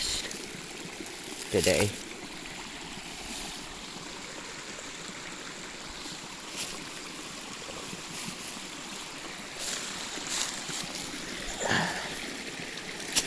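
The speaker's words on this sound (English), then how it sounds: "the water's rushing like fast" A fast stream rushes in a steady broadband wash outdoors on a nature hike, with occasional louder splashes and brief speech.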